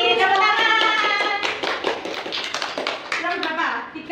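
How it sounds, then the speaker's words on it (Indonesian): Children in a grade-four classroom clap their hands together, a quick burst of sharp, uneven claps close by, with young voices talking over and around it. "Tepuk tangan."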